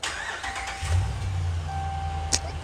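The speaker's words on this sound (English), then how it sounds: "Let's fire it up." A Hemi-powered Dodge Ram 1500 pickup engine cranks and catches, settling into a steady low idle rumble, with a short electronic beep near the end.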